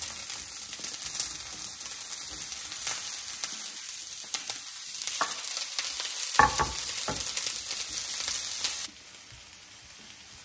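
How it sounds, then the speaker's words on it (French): Cut bell peppers fry in a pan with a constant crackling sizzle, broken by scraping stirs and a few sharper clicks, close up, before the sizzle drops quieter near the end. "Je vais les ajouter directement dans la poêle"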